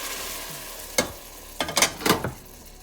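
Warm milk poured onto toasted vermicelli in a hot pot, giving a few short sizzling bursts and stirring scrapes over a low cooking hiss, close and fairly loud.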